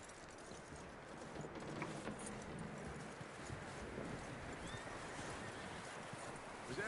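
Horse hooves in Red Dead Redemption 2 clip-clop in a steady walking rhythm, soft and continuous under a low windy ambience.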